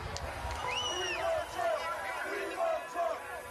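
A distant outdoor crowd surges toward the Capitol, a broad roar of many voices with rising and falling shouts and whoops carrying over a constant murmur, with no single voice standing out.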